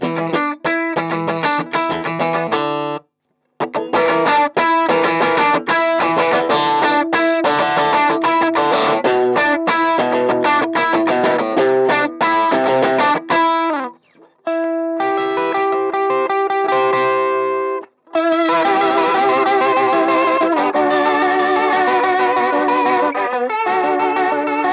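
Electric guitar played through an amp with an SD-1 overdrive pedal, sustained distorted chords and riffs with a few brief pauses, loud and up close.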